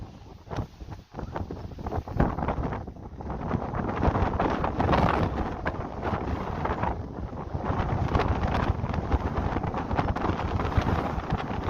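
Wind buffets a camera microphone outdoors on a windy day, producing a loud continuous rumbling roar that surges and dips throughout.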